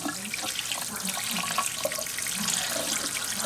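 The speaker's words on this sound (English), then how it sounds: "They really like hot water like this, though." Hot water pours steadily from a tap over a live centipede in Hawaii, a continuous hissing splash lasting throughout at close range with no talking.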